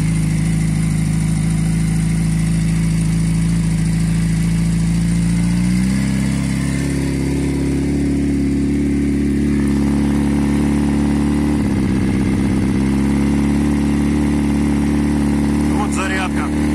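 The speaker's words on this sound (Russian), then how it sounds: "Так работает движок, ребята." Kawasaki ZZR motorcycle engine idling steadily after its first start of the season, loud and close, with a slight shift in pitch partway through and no talk over it.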